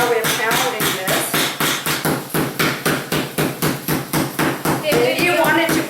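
A meat mallet flattens schnitzel meat in a home kitchen with a rapid, steady series of loud, dull thuds close by. A voice talks beneath the pounding.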